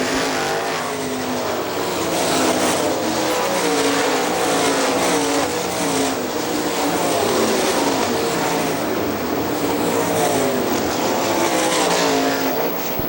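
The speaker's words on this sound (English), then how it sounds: "Darren Long, your second place car, slowing on the back straightaway in car number 7" Sprint cars race on the dirt oval at Hartford Speedway Park, their engines a loud, continuous, dense roar that swells and fades slightly as the pack circles the track.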